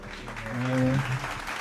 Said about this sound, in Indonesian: Tepuk tangan buat 3 narasumber kita